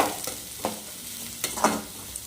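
Onions frying in oil for a Chettinad-style egg gravy, with a soft continuous sizzle broken by a few sharp scrapes and stirs of a spatula against the pan, close and without talk.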